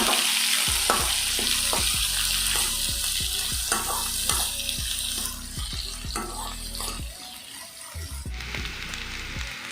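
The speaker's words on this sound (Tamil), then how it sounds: "பாருங்கள், நல்லா ஃப்ரை ஆகிடுச்சு." Purple cabbage frying in a pan for a village-style dish gives a steady, close sizzle, broken by a run of sharp, rhythmic scrapes and knocks from stirring.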